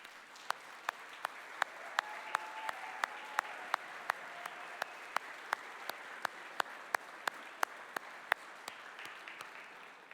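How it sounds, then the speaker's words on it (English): Applause from an audience at a college awards celebration: sharp, evenly spaced claps ring out over a steady wash of crowd noise for the whole stretch, with no talking. "let's give them a round of applause"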